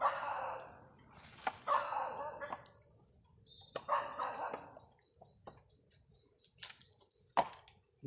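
Two dogs at a forest coconut farm, one a monitor-lizard hunter, give several short barks spread over the span, moderately distant and mixed with rustling and light background noise.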